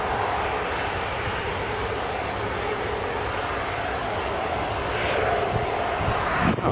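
A KLM airliner roars as it departs from runway 07. The jet engines make a steady, loud, broadband rush that stays constant from start to finish. There is no clear speech.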